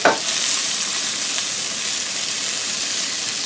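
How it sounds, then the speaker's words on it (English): Vegetables hit a skillet over low heat for potato hash, a brief clatter at the drop giving way to a steady, soft sizzle that continues alone. "Just dump your vegetables in gently."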